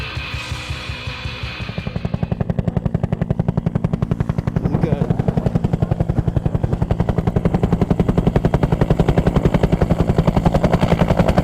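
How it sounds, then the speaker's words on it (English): Helicopter at Whistler, loud and close, its rapid rotor chop beating steadily and building in strength while a voice speaks briefly at the start. "We've just been dropped off at the top of the mountain in Whistler by the helicopter."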